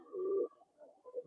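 A rare old-breed Naktana pigeon gives a soft, low coo, one longer note followed by two shorter murmurs, close by and quiet.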